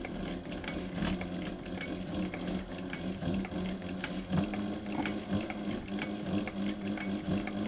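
A post bed sewing machine stitches a leather boot repair, running back and forth over reinforcing layers with a steady, rapid mechanical chatter throughout and no voices.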